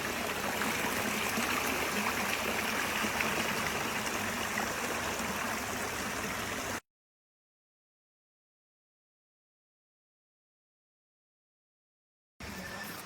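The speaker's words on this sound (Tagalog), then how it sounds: "Tignan niyo naman yung agos." Muddy water rushing down a fresh landslide in Bukidnon, a steady, loud, close hiss and churn of flowing runoff that cuts out completely for several seconds, then resumes.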